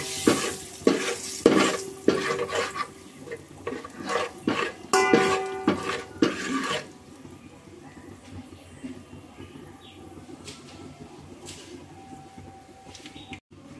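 A spoon scrapes and clanks through food in a cooking pan with dried red chilies, loud rhythmic stirring for about seven seconds, then a softer low sizzle with occasional faint taps.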